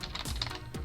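Several quick keystrokes on a computer keyboard are heard close up as an email address is typed, a brief burst of soft clicks.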